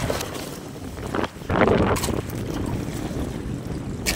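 Strong wind buffets a small fishing boat during a storm at sea, roaring and gusting against the microphone in loud waves, with a brief lull before a sharp surge.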